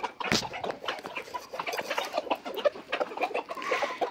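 Chickens clucking and squawking inside a coop, a busy chorus of overlapping calls close by with one sharper squawk early on and no talk.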